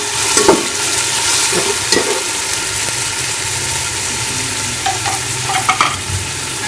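Onion and chicken frying in a pan with a splash of added water, a loud continuous sizzle with occasional stirring scrapes and clinks, no voices.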